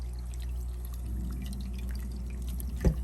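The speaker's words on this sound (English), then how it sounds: "this water is going to flow over and" Water from a TopFin PRO50 aquarium power filter pouring and dripping in a steady low trickle, with a brief louder splash near the end.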